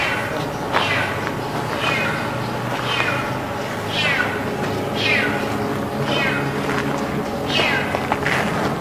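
A kitten meows repeatedly in an indoor setting, with about seven rising, clear mews spaced roughly a second apart over a steady background hum.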